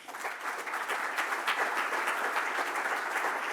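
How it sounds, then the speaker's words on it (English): Audience applause at an event pitching competition, a steady dense round of clapping from a crowd that holds at a fairly even level throughout without voices. "a big round of applause for the Muizenberg Festival presentation"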